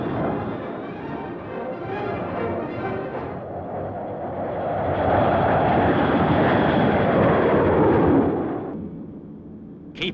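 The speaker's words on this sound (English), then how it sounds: "The Hunter, say these pilots, is the ideal aircraft for aerobatics." Hawker Hunter jets of the Black Arrows aerobatic team fly a smoke display. Their broad, roaring engine noise swells louder as the aircraft pass, then fades.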